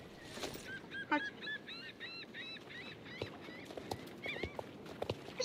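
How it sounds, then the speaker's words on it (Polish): A horse in a video game is led at a walk, its hooves clip-clopping softly and irregularly while it whinnies and neighs faintly in the background. "Prowadź konia, możemy prowadzić go, chodź."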